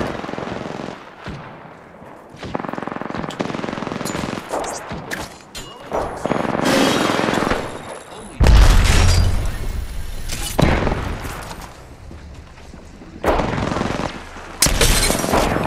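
Bursts of rapid Prowler and R-99 SMG fire in Apex Legends, loud and close, coming in several clusters with short gaps and heavy booming impacts between them.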